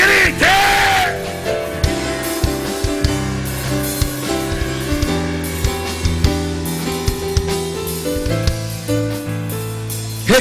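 A church congregation shouts and cheers during a service, loud overlapping yells and whoops rising in a sustained roar with sharp peaks throughout.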